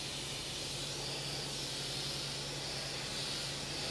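Steam cleaner hissing steadily against brick, stone and render on a library building at ground level, a continuous broadband spray with a low mechanical hum underneath, loud and unbroken throughout.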